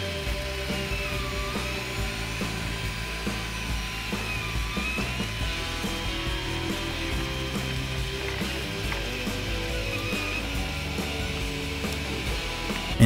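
A Sovol SV06 3D printer lays down a first layer of black TPU, giving a steady, continuous mechanical whir with ratcheting stepper-motor buzzes and clicks throughout, close and uninterrupted.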